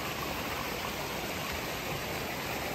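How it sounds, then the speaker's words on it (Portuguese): The Piraputanga waterfall and its rushing river make a dense, steady roar of falling water, loud and close, with no voices over it. "A cachoeira da Piraputanga."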